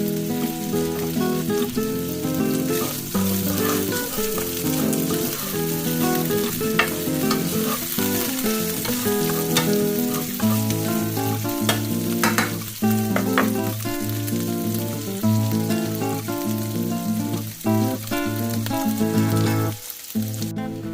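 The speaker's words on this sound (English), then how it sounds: "Then into the oil we put our pancetta. And we're going to cook the pancetta down until it renders all of its fat" Pancetta frying in oil and rendering its fat for osso buco, a dense crackling sizzle under loud music, with stirring and a few sharper pops, no speech.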